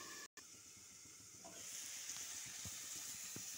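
Chopped onion frying in tempered oil under a lid makes a faint, steady sizzle and hiss, with a brief silent dropout near the start and a few light taps later on.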